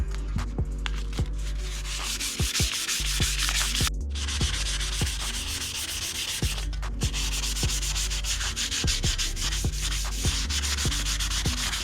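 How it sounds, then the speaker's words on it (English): Wet 320-grit sandpaper rubs back and forth on a Bassani motorcycle exhaust pipe in quick, steady, close-up strokes, a continuous abrasive scratching with brief pauses and no talk. "now we're going to go on to the 320 grit. I got my sandpaper wet"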